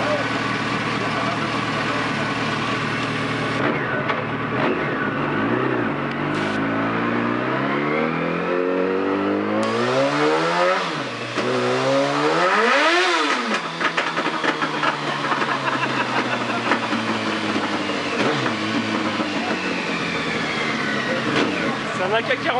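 A motorcycle engine on a dyno test bench, revving loud and close with rising and falling sweeps throughout, engine roar filling the whole clip.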